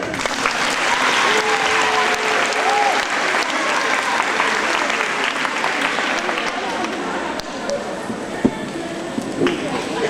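An audience claps for pupils after their carnival dance at a school, a dense burst of applause that tapers off, with some voices mixed in toward the end.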